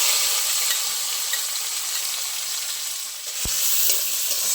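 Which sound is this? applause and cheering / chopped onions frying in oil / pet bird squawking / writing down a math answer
chopped onions frying in oil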